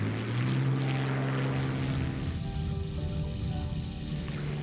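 A P-51D Mustang's propeller engine drones in Flight Simulator, a steady rumbling hum that shifts in pitch as the throttle changes, with no talk over it.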